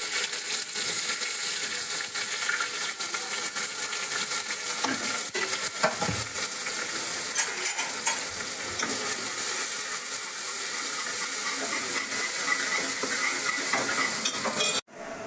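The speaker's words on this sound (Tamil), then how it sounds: "வெங்காயம் நல்லா வதங்கிடுச்சு ஃப்ரெண்ட்ஸ்" Onions cook in a pan after mustard seeds and cumin went in: a continuous, fairly loud sizzle with scraping and stirring clatter, fading off sharply at the very end.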